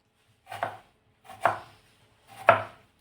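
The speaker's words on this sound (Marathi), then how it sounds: "मी इथे एक असा टोमॅटो घेतला आहे। बारीक बारीक चिरून घ्यायचा आपल्याला।" A kitchen knife chops a tomato finely for an aloo methi bhaji: three crisp, evenly spaced chops land close by on a board, with quiet gaps between them and no talking.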